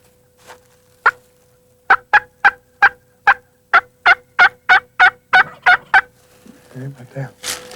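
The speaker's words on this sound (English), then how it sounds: "all 5 birds, it turned out, were jakes, or yearling turkeys" Wild turkeys, young jakes approaching a decoy during a spring hunt, gobble in a rapid series of about a dozen short, loud calls spaced evenly, followed by softer clucking and rustling near the end.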